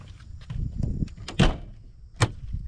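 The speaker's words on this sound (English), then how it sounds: "And then next, you put this handrail in, and then you close the door." Door of a Flagstaff E-Pro E20BHS trailer camper being closed, with a few soft thuds and handling clatter followed by a sharp latch click and a second clunk.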